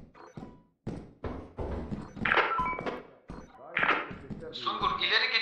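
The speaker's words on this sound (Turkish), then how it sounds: "Şu kapıyı kapatsana ne olur ne olmaz." A door slams shut in Lethal Company with a single dull thunk, heard amid ongoing conversation between players talking close to the mic.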